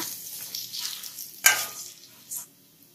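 Grated carrot with curry leaves is stirred in a pan for carrot rice, soft scraping and sizzling with a sharp clink of the spoon against the pan.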